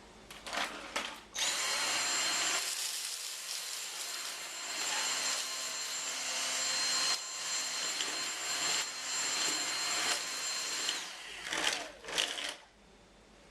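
A Dyson DC59 Animal cordless vacuum runs with a loud, steady high-pitched whine while sucking up sprouted lentils, with brief rattles and louder bursts at start and end.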